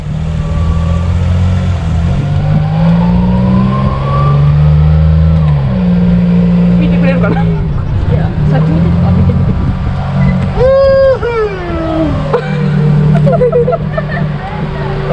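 A Thai tuk-tuk being driven in Japan gives a loud, steady engine drone throughout, with people talking over the running motor.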